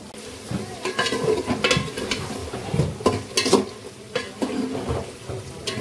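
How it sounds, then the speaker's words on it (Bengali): Spicy liver chorchori being stir-fried with a little water in a pan: a soft sizzle runs beneath repeated scraping and knocking of the spatula against the pan in an irregular stirring rhythm, close and fairly loud. "তো এই যে মেট, এটা কষানো চলছে, সামান্য পরিমাণে জল দিয়েছে"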